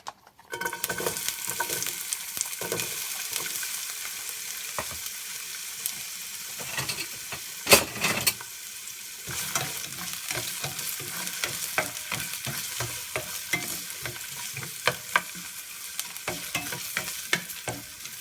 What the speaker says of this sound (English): I'm just gonna let this saute for about 2 minutes and then I'll be back.